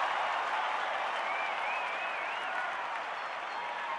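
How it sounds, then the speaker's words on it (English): A baseball crowd at a San Diego at Chicago game cheers after a 3-2 foul ball: a loud, steady roar of voices and clapping that fills the whole stretch without easing. "Loudest cheer in the history of baseball for a 3-2 foul"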